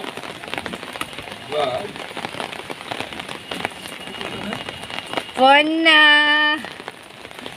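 Steady rain patters on surfaces in a soft hiss throughout a bath on a rainy day, while a person speaks briefly and a short, loud tonal call cuts in near the end.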